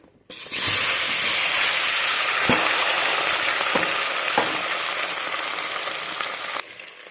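Cumin seeds and vegetables fry in a pan, a loud, bright hiss that bursts in suddenly and holds steady, with a few soft knocks of a spoon, then cuts off abruptly near the end; no talking.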